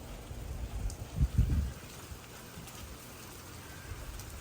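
Rain falling as a soft, steady hiss with a few low thumping bursts in the middle, faint and continuous throughout.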